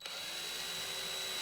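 A power drill or driver runs steadily for a moment, reinstalling the screws on a Minn Kota Terrova trolling motor controller, a close, continuous whir with no talking.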